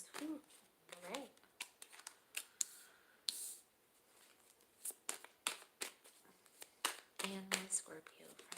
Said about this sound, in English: You guys heard me shuffle.